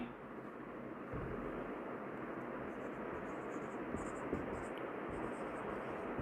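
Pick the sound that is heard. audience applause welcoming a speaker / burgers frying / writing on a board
writing on a board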